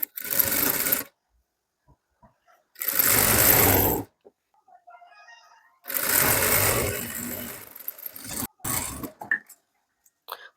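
Sewing machine stitching the side seams of a sharara lining, running in three steady bursts of a second or more separated by silence, with faint handling clicks in the gaps.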